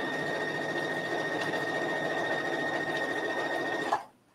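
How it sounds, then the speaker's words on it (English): A sewing machine stitches steadily around a sweater hem for about four seconds, a continuous even whirr with a faint rhythmic patter that stops abruptly near the end. "now this time I can just sew all the way around."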